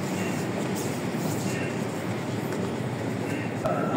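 Ride aboard a Cairo metro train, a steady dense rumble of the carriage rolling along the track, loud and continuous throughout, with a brief clunk near the end.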